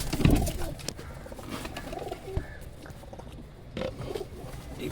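Pigeons in an enclosure, including a large pair, give low soft coos and bird calls with a brief loud flutter near the start, close by and moderately loud, with no talk.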